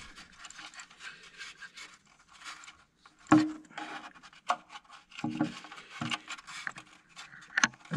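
Fuel rail pipe worked onto a TPE inlet manifold on a Mini, with quiet scraping, rubbing and sliding of metal parts and a few sharp clicks and knocks spaced through the effort.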